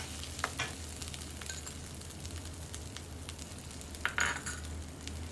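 Red curry paste and shrimp paste sizzle as they are stir-fried in a pan, with a steady frying hiss under occasional clinks and scrapes of a utensil stirring. The sound is close and has no talking.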